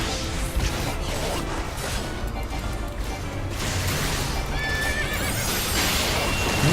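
A horse neighs in Final Fantasy XIV: Stormblood, with clip-clop hooves and loud battle effects layered over dense game music, a bright rising whistle cutting through near the end.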